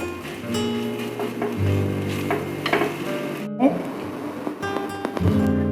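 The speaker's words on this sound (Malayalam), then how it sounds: "നന്നായി ഇളക്കി കൊടുക്കാം." Food with salt and chili flakes stirred in a frying pan, a spoon scraping and clinking against the metal amid a soft sizzle, close by with a brief break partway through.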